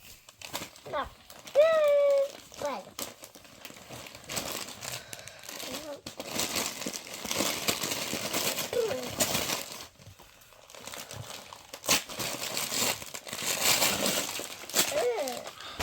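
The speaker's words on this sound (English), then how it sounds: "Just take all the wrapping paper off." Christmas wrapping paper being torn and crumpled off presents at a family gathering, with repeated bursts of crinkling and ripping over several seconds, mixed with people talking nearby.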